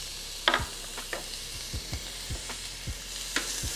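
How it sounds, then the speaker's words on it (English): Diced onion and garlic sizzle steadily in a pan while a spoon scrapes and stirs at irregular intervals, close and clear, with no speech. "allow the onion to start to get tender and sweat down a bit"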